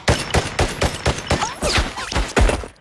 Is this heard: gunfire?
yes